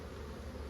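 A honeybee buzzes close around someone's head beside a calm backyard hive, a steady, loud, continuous drone with no other sound.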